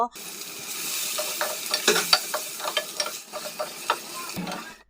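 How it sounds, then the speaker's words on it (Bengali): Sliced onions fry in oil left over from frying rohu fish while being stirred. A continuous sizzle runs through, broken by repeated scraping clicks and knocks of the stirring utensil against the pan, heard up close with no talking. "নেড়ে দিয়ে পেঁয়াজগুলোকে হালকা ব্রাউন করে ভেজে নেব"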